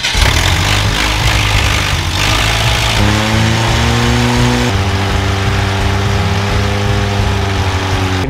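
A GM car engine running on a Rochester 2-barrel carburetor, loud and close, rumbling steadily with a rough idle that climbs into a higher whining tone partway through.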